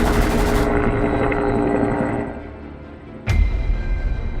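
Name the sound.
helicopter with gunfire in animated cartoon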